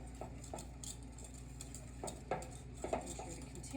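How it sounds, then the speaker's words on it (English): Metal whisk scraping and tapping in a pot of thick cream of mushroom sauce with green pepper, for chicken spaghetti, giving irregular soft clinks and knocks over a steady low kitchen hum. "Make sure to continually whisk"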